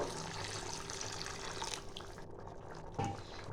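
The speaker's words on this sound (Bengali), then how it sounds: "আমি এখানে আরেকটু জল দেবো।" Water pours into mutton kheema ghugni in a pot as a quiet, steady splashing stream that thins out near the end, with a small bump of sound as the pour stops.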